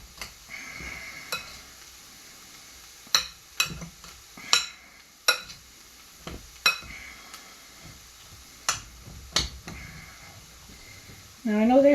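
Softened, translucent onions for perogy filling are stirred in a pan, a series of sharp spoon scrapes and clinks over a soft sizzle, with a voice speaking between strokes.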